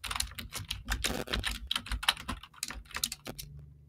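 Someone types on a computer keyboard while filling in a form, with rapid, uneven keystrokes clattering up close in bursts and brief pauses.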